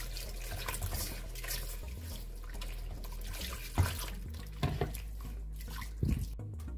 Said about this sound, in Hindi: अब इसमें हम हल्का हल्का पानी डालेंगे, बिल्कुल हल्का हल्का पानी डालेंगे